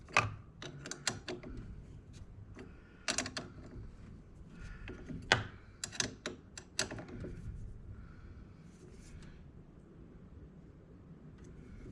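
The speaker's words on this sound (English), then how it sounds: "Got the old overkill wrench going here." A large wrench ratchets a bolt on a steering gear of a Tahoe, giving quick clicking and clanking bursts in the first seven seconds that fade into quiet shuffling.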